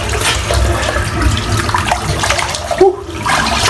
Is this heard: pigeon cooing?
no